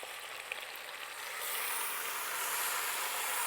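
Tomatoes go into browned meat for a Neapolitan meat sauce, and a steady, close frying hiss swells louder and fuller partway through.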